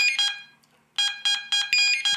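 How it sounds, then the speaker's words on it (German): Fishing bite alarm from an SF-10 set signalling a bite through its sound box: short, bright electronic beeps, a pair first, then a pause and a faster run of repeated bleeps, close and clear. "in dem Moment, wo Sie am Bissanzeiger einen Biss haben"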